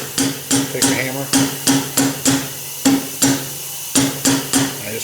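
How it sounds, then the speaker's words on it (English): A hammer taps repeatedly on the muffler of a Fairbanks Morse 3HP ZC engine pressurized with air, about two sharp, close, evenly spaced knocks per second. "and then take a hammer."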